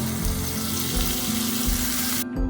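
Green chili, coriander, turmeric and ground ginger sauté in a hot pan for pumpkin greens, a loud steady sizzle with scraping stirs, ending abruptly.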